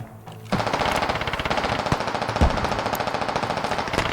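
Rapid, loud bursts of SVD rifle and automatic gunfire in the Squad video game, a dense, continuous rattle of close shots with a few heavier impacts standing out.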